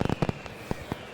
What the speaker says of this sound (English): We'll get some fireworks for them.